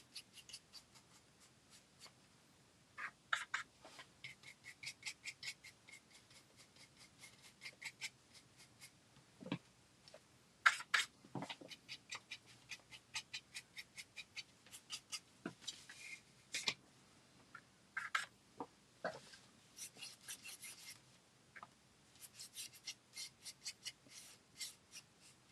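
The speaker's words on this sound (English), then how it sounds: "I'm just kind of scuffing that along that edge of the wood." Dry brush being scuffed along the edge of a wooden craft piece, heard as a quiet run of short, close scratchy strokes in uneven bursts, with fuller rasps in the middle and toward the end.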